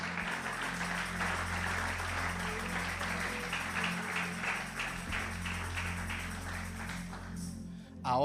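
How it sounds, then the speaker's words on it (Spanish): A church congregation applauding for the Lord, a steady wash of many hands clapping at moderate distance that holds evenly and then ends abruptly. "Un aplauso fuerte al Señor."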